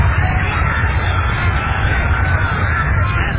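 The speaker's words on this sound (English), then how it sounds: "That's the sound of a sunset at beautiful Belmont Park." A crowd murmurs at Belmont Park during sunset horse racing, a dense, steady wash of babble and hubbub that carries on without a break, muffled and lacking high treble as if heard over a radio broadcast.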